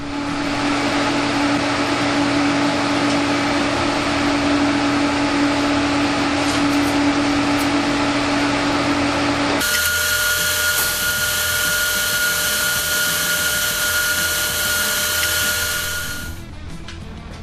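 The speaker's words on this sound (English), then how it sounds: "I'm going to cut the threads off, and I'm going to make a T-handle" Threads are cut off a steel bolt with a power tool. A loud, continuous grinding whine runs throughout, shifts to a higher, harsher tone midway, then eases off at the end.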